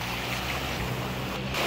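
Dive boat pushed along by a Toyota Yaris car engine mounted on a stick drive, out on open water off Koh Tao; a steady, loud drone with low engine hum fills the whole stretch, with wind and water rush over it.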